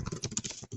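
Rapid, uneven clatter of typing on a computer keyboard, close and moderately quiet, with a brief pause near the end before the keystrokes resume.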